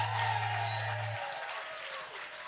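A church congregation applauding and cheering for Jesus, a steady wash of clapping and crowd noise from a large room with a low hum fading at the start, no clear speech.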